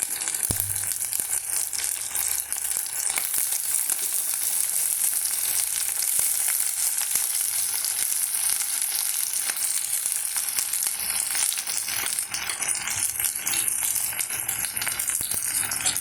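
Grated jackfruit thoran with jackfruit seeds and curry leaves sizzles steadily in a pan, with a constant close frying hiss and rattling scrapes of stirring throughout, no voices.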